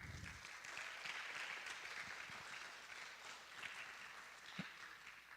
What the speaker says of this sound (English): just round of applause to her